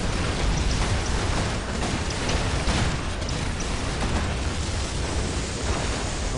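Dense, continuous rumbling blasts from an Archimagos bombardment in a Warhammer 40,000: Dawn of War Unification 2v2 battle between Imperial Fists and Death Guard, loud booms blending into a steady roar of battlefield noise.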